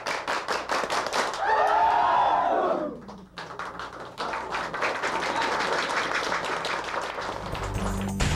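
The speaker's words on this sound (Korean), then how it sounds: "식사를 마친 생도들은 한국 교관들에게 배운 337 박수로 고마움을 표시했다." Cambodian military cadets clap together in the Korean 3-3-7 pattern after a meal, sharp group claps in rhythmic bursts with a loud shout partway through, then more brisk clapping.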